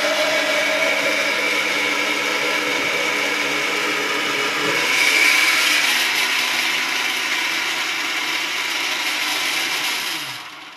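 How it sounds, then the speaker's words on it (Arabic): A blender whirs continuously for about ten seconds, blending pumpkin with water, its pitch rising and dipping slightly as it churns, then winds down at the end. "وهتبتدي ان انت تضربي قرع العسل مع المية."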